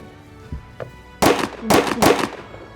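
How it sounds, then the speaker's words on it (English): Several sharp gunshot reports ring out in a staged mock military battle aboard the Victorian steamship SS Great Britain: two faint early pops, then three loud bursts in quick succession. "When passing the forecastle, the sailors twice opened fire on them."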